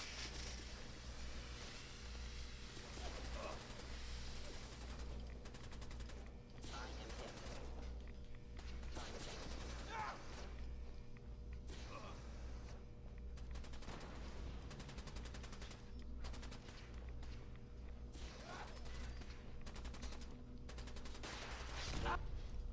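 Gunfire in the video game Fallout 4, a string of sharp reports spread irregularly through the clip, some in quick clusters, fairly faint beneath a steady low game hum with people talking at times.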